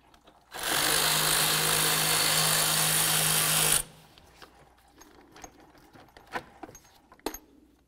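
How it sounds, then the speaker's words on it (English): A 10 mm power tool removes the radiator fan mounting bolts on a 2003–08 Toyota Matrix, giving one loud, steady whir of about three seconds. Light clinks and handling knocks follow. "The next thing we need to do is remove our mounting bolts down here. Use a 10 millimeter."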